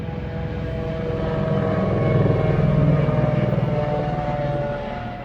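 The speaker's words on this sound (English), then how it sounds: "police helicopter is circling." A steady droning rotor and engine rumble from a police helicopter circling overhead in Baltimore holds throughout, swelling slightly louder mid-clip then easing.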